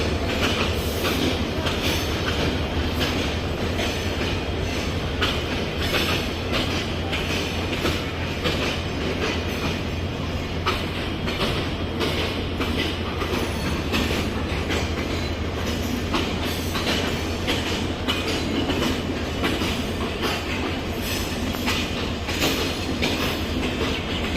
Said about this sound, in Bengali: কপোতাক্ষ এক্সপ্রেস লাল সবুজের এক বিশাল বহর নিয়ে ছেড়ে গেল রাজশাহী রেলওয়ে স্টেশন